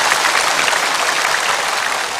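Studio audience at a television variety show applauding to welcome a contestant, a dense, loud, sustained burst of clapping from many people.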